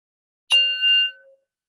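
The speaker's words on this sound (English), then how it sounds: "we listen to the mindfulness bell together" A single bell struck once, a clear ringing tone with a bright attack that sustains and fades over about a second, alone in silence.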